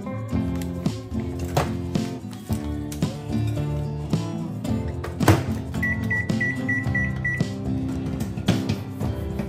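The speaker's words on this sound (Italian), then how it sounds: "Popcorn al microonde al caramello salato." A microwave oven runs while cooking salted caramel popcorn, its electronic tones and hum carried under music-like tonal layers, with a sustained beep partway through.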